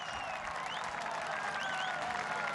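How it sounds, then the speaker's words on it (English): A cricket crowd at a Sri Lanka versus Pakistan one-day international cheers and applauds a boundary, a broad, distant wash of clapping and cheering that holds steady throughout. "It's been a while since the crowd had a boundary to cheer for."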